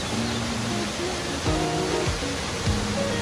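Constant broad roar of a waterfall in Kerala, close and steady, with faint tonal sounds and a voice partly mixed in underneath.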